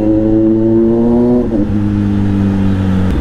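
A Kawasaki Z900 motorcycle engine revs close by, a steady multi-harmonic growl that dips briefly mid-way, then settles into a strong, even drone.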